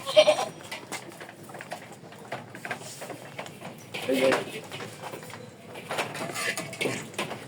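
A goat on a goat farm bleats a few times, close but fairly soft, amid quiet farmyard background while people talk nearby.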